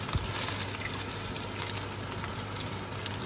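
Ground beef browns in hot oil in a pan with a steady, dense sizzle that stays even and close throughout, with no talking.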